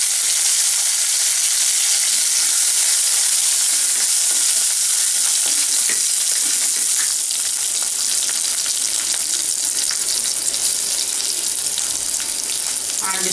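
Crushed ginger and curry leaves sizzling in hot spluttering oil for a cabbage and peas sabji, a steady close frying crackle with small pops and stirring throughout.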